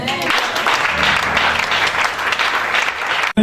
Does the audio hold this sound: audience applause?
yes